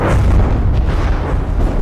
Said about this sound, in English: Oh, and the magazines went up